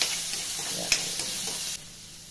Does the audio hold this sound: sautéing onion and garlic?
yes